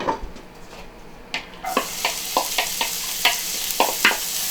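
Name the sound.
onions caramelizing in oil in a preheated skillet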